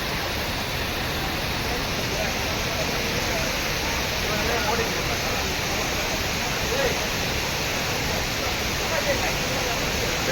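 Hogenakkal waterfall on the Kaveri river, its water rushing with heavy force in a loud, steady, broadband roar that fills the whole scene without letup.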